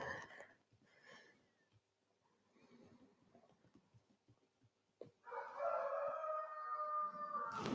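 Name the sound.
rooster crowing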